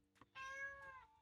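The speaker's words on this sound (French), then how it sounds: "J'ai mon chat qui arrive." A house cat gives a short chirp followed by one clear, drawn-out meow, faint and close, with no other sound around it.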